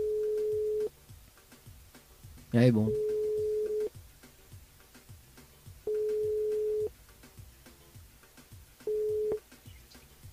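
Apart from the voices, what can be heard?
telephone ringing on a call to a listener's mobile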